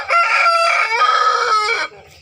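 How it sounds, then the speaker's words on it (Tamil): A white rooster on a farm crows loudly and close by, one long drawn-out call that rises, holds and trails off, with no other sounds around it. "இங்கே ஒரு வெள்ளை சேவல்"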